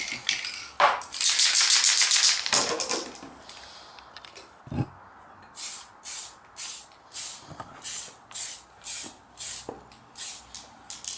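A spray can paints a Proline Desert Rat RC car body red: one long hissing burst, a few short ones, then a steady series of about ten brief, evenly spaced light bursts, close and fairly quiet, with no talk.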